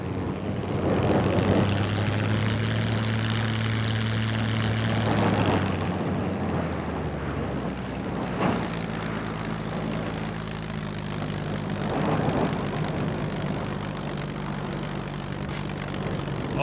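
A loud propeller aircraft engine drones steadily in the survival game SCUM, its pitch shifting as the throttle changes, with no talk.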